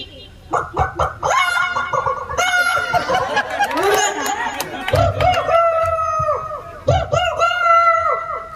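An 8-year-old child mimics a chicken with choppy clucks and squawky crowing bursts, loud and close, in uneven rhythm.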